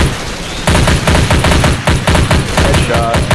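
Rapid automatic gunfire rattles loudly and without pause in the shooter game S.T.A.L.K.E.R. 2, coming in as dense bursts after a quieter opening moment.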